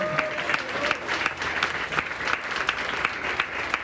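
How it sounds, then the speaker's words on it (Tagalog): A church congregation applauds at an anniversary worship service: dense, steady clapping from many hands fills the whole stretch at a moderate, even level. "Malakas na palakpak po sa Panginoon."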